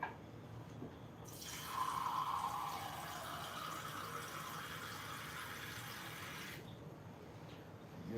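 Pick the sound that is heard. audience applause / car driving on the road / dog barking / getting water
getting water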